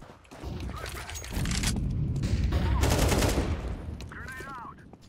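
Counter-Strike 2 gunfire: dense bursts of rapid automatic shots and loud cracks keep up for several seconds, with a short electronic warble near the end, all close and loud.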